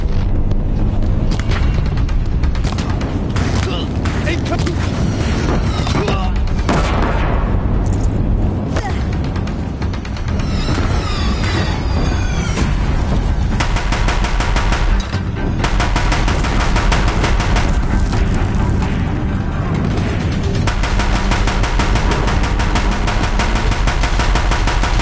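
Dense, sustained gunfire and explosions from a climactic battle in the game Horizon Zero Dawn, loud and continuous for the whole stretch with bursts of rapid shots layered over a constant roar.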